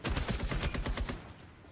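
A quick, loud string of rapid gunshots from the tactical shooter Rainbow Six Siege, evenly spaced cracks in a brief automatic burst that tapers off after about a second.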